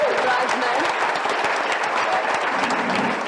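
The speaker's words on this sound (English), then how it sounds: "Can you give them a quick round of applause?" Wedding guests applaud the bridesmaids with steady, dense clapping from a crowd filling the room, close and sustained throughout, with a few voices mixed in.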